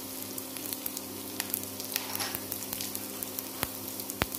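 Crushed dried curry leaves sizzling in a pan for semolina balls, a soft, steady frying hiss with a few sharp pops and crackles near the end.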